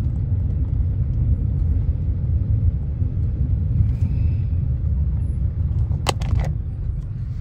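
A car driving around the grounds of a large mall project in Arizona, heard from inside as a steady low road rumble, with a couple of faint light clicks near the end.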